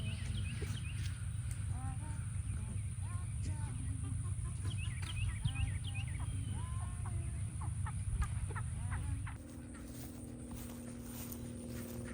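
Ducks calling around a farmstead on a fall morning, many short overlapping quacks and chirps over a steady outdoor background hum that drops in level near the end.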